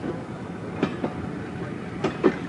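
Commuter trains move along the track, giving a steady rumbling roll with a few soft clacking rail joints spaced irregularly across it.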